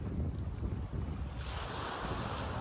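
Waves wash steadily along a sunny Sardinian seaside under a light breeze, making a continuous, fairly loud broadband roar with gusty wind noise across the microphone and no voices.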